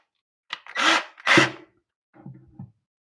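A power drill with a small bit bores into a Home Depot kitchen cabinet in two short close whirring bursts, followed by a fainter brief spin-up near the end, no talk.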